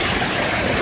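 A mountain waterfall at Santa Branca pours into a small pool, giving a steady, loud, broadband rush of falling water with no break.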